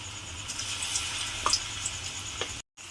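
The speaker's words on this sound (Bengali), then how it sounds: "তেলের মধ্যে দিয়ে ভালোভাবে আলুগুলোকে ভেজে নিতে হবে" Potato pieces fry in hot oil as part of an egg masala curry, giving a steady soft sizzle with a few light clicks of a utensil against the pan, briefly cut off near the end.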